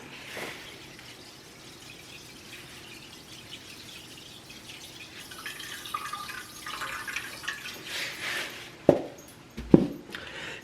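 Tap water runs into a pot at moderate volume to make a salt brine for a turkey, a steady splashing stream that swells toward the end with a couple of sharp clanks.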